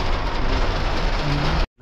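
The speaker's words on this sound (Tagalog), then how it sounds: "Ang lakas ng ulan." Heavy rain pours as a dense, steady hiss that fills the scene, then cuts off abruptly near the end.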